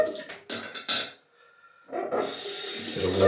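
Water runs from a tap to rinse a freshly shaved head, coming in close splashing bursts with a short quiet break in the middle before it flows on steadily.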